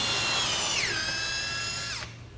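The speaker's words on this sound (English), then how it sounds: "Make sure it's plumb, and just simply drill through." A cordless power drill bores through timber with a loud, close whine whose pitch drops sharply as the bit bites into the wood, then holds steady for about a second before cutting off abruptly.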